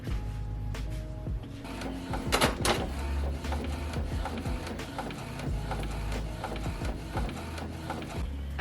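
A sublimation printer loaded with 11 by 17 paper runs a steady mechanical print job, with the carriage whirring and shuttling back and forth and occasional louder clacks and feed noises, close and continuous with no talking.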